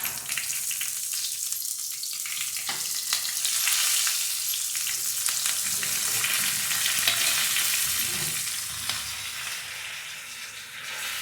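Steady, bright sizzling of mustard seeds and curry leaves frying in hot oil as a tempering for okra sambar, crackling continuously and close up with no voices.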